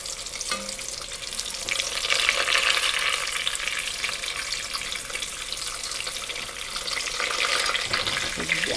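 Food spattering in a hot pan while frying, with a salad of onion, lemon, ginger and olive oil being made nearby; a steady, fairly loud crackling hiss runs throughout, swelling in places.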